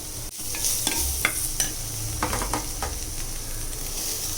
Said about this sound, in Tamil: வெங்காயத்தை போட்டு நல்லா வதக்கிட்டு கூடவே சுண்டைக்காவும் போட்டு வதக்கினேன்